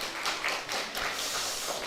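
A church congregation gives a short round of soft applause, a dense, steady patter of many hands clapping at a modest distance.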